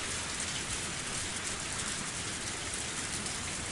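Torrential rain pouring down steadily in a visual novel game scene, a dense, loud, unbroken hiss with no other sounds.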